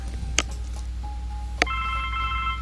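A telephone rings in the point-and-click adventure game The Blackwell Legacy. After a short click, clean electronic ring tones start and hold steady near the end, with no one talking.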